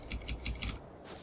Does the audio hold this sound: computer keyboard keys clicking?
yes